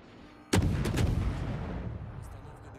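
A loud naval gun salvo booms in World of Warships, fired from the cruiser Podvoisky, its sharp blast rolling into a long fading rumble with a few quieter follow-up reports.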